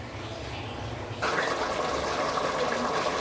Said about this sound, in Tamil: ஸோ நல்லா கொதி வந்துருச்சு.